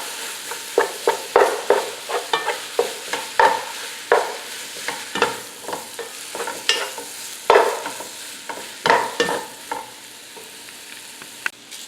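Ground sausage cooking in a pot, a low sizzle punctuated by repeated rhythmic scrapes and stirs of a utensil, close and clear with no talk.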